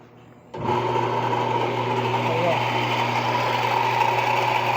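Newly lubricated washing machine switched on: after a near-silent moment, a loud, steady, close mechanical whir and motor hum kicks in abruptly and runs continuously.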